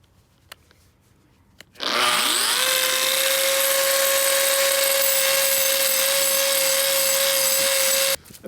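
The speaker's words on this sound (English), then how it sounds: "I'm using a belt sander here." A belt sander running on wood during a home renovation, starting abruptly after a few faint knocks and holding a loud, steady whine with a rough abrasive rasp for about six seconds before cutting off.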